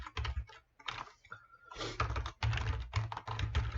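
Keyboard shortcuts being typed on a computer keyboard, a close run of quick clicky key presses and thunks in uneven clusters, with a faint tone partway through.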